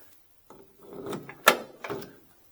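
A door lock on a 1967 Chevrolet Impala SS clicks as it unlocks, giving a sharp mechanical snap with a softer rattle before and after, close by, with no talk.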